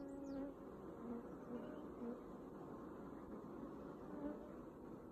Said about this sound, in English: Still got a few bees on it.